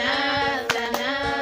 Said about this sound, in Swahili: Makofi jamani, piga vizuri makofi